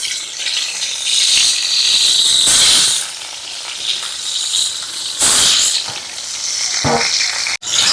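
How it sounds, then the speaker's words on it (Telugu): Tomato pieces frying in hot oil in a pan for a village-style tomato green chilli chutney, giving a steady close sizzle and hiss with brief bursts of louder crackling, no talk over it. "టమాటాలు ఈ విధంగా కోసుకున్నాను వాటిని కొంచెం నూనె ఉంది ఆ నూనెలో పెట్టేసుకుంటున్నానండి ఇవి కూడా చక్కగా వేయించుకోవాలి"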